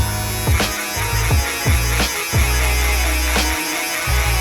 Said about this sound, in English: Now last step, going up with the shaver.